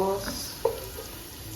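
Garlic, onion and kikiam are stir-fried in a pan, giving a soft sizzle broken by a couple of sharp scraping clinks of the utensil against the pan, quiet and close.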